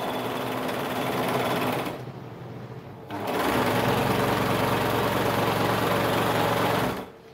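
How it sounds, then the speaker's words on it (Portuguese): An overlock sewing machine stitches a poncho in two loud, steady whirring bursts, pausing for about a second between them and stopping near the end. "eu só tô passando no overlock pra dar mais uma acertada"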